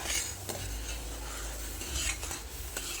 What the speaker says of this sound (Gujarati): હવે આપણે આને સરસ રીતે મિક્સ કરી દઈએ.